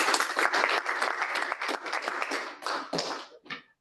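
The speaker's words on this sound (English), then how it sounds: "Can we have a huge round of applause," Audience at an engineering and management conference applauds an award recipient, a dense burst of clapping that fills the room for several seconds before thinning out and stopping.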